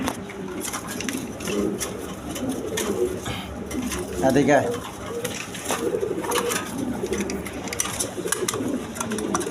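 Large pigeons at a Bangladeshi pigeon market coo repeatedly in soft, throaty bursts close by, mixed with light rustling and a brief spoken word from a person nearby.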